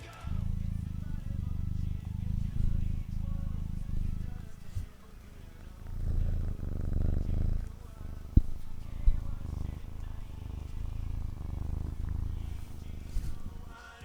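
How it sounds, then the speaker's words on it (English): A kitten's low, steady purring rumble close by, continuing with brief pauses and a few soft clicks and rustles. "And this guy's always purring. Here, take a listen."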